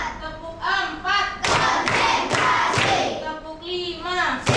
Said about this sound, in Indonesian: Kita tepuk-tepuk dulu supaya bisa kembali konsentrasi